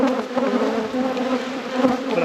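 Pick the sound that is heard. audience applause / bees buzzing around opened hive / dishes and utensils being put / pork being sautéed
bees buzzing around opened hive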